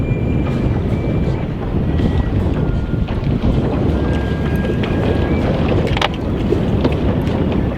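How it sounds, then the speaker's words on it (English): A boat's trolling motor runs on open water in strong wind, buried under loud, continuous wind rumble and buffeting on the microphone, with a faint motor whine. "we got the trolling motor deployed"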